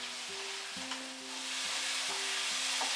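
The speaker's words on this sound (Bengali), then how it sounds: "আবার এটাকে আমি 5 মিনিট নাড়াচাড়া করব মাঝারি আঁচে।" Vegetables and sliced tomato with chopped green chillies fried over medium heat for a Bengali rohu fish curry, a steady sizzle broken by repeated scraping stirs of a spatula, close and without talk.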